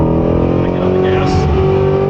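A 2024 Corvette Stingray's engine pulls hard under throttle out of a turn, a loud, steady close-up drone with layered harmonics and a brief rise in pitch, heard over ongoing talk.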